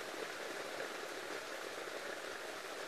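Steady rain falls continuously in a dense, even hiss of drops on surfaces, no pauses or voices, moderately loud throughout.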